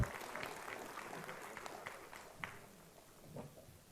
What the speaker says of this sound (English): Please give a big round of applause for yourself.